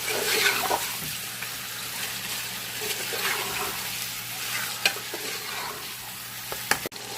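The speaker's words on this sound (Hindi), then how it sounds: "चिकन को 5 से 6 मिनट तक फ्राई करेंगे।" Chicken frying in a pan with ginger and garlic for biryani while being stirred, a steady close sizzle broken by irregular scrapes and clinks of the utensil, and one sharp knock near the end; no speech.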